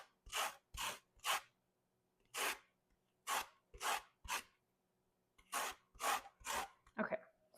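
An orange being zested on a grater for a cranberry orange cake, a series of about eleven quick dry rasping strokes in uneven clusters, close and distinct against a quiet kitchen.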